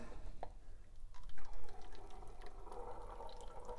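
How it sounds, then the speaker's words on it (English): Homemade nut milk pours through a sieve into a funnel, a faint, soft trickling and dripping of liquid heard close up, with no talk. "what I've been doing now is pouring that nut milk through my sieve into a funnel"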